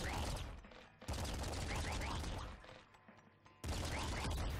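Rapid bursts of triple machine gun fire from the top-down shooter game Nuclear Throne, loud and dense, pausing briefly between volleys before resuming.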